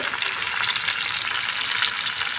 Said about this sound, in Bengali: তেলটা অনেক ফুটে উঠেছে। আমার সবগুলো বড়া দেওয়া হয়ে গিয়েছে।